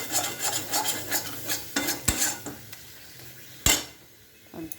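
Spice masala with turmeric and coriander powder being sautéed in a pan, with repeated scraping and clinking of a metal spoon, a few sharp knocks, and a faint sizzle underneath.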